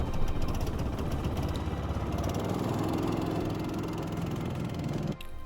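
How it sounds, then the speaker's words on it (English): A 9 hp engine on a homemade G-Class runs steadily and close by after an electric-start push, with a chugging, mower-like idle that holds for several seconds before a brief dip near the end. "a simple push of a button will do to fire up the engine"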